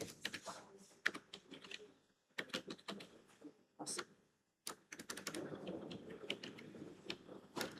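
Quick bursts of clicking keystrokes on a computer keyboard, close and fairly quiet, typed in short runs separated by brief pauses.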